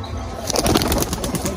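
Pigeons beat their wings in a short flurry, with soft cooing around it, all close by and over in under two seconds.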